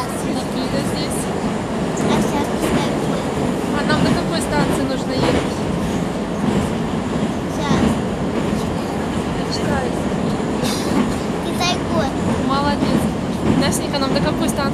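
Steady, loud rumble of a Moscow Metro train in motion, with rattling and screeching metal throughout and faint voices mixed in.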